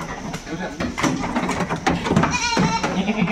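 Goats bleat among livestock, including a red goat that has been mated with a Boer, with one clear wavering bleat rising above a busy background of rustling and other animal noise.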